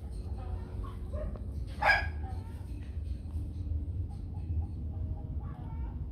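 A fluffy white Bac Ha dog gives a single sharp bark close by, rising briefly above a low background hum, with a few faint rustles and chirps scattered around it and no speech.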